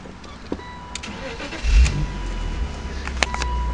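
A 2000 BMW Z3 Roadster's engine cranks and catches partway through, then settles into a steady close idle, with small clicks and rattles around the start and no talking.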